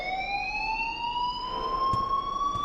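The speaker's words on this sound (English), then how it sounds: "please turn off that alarm since that's your job" An alarm in the video game Life Is Strange wails as a continuous rising electronic tone, steady and fairly loud, with a couple of faint clicks near the end.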